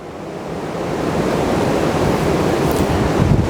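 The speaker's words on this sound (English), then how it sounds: "we can push it onto the end of a hose pipe and get the water to run through it" Water from a garden hose rushes through a granular carbon filter, a loud, steady broadband hiss that swells slightly and holds, close and with no voices.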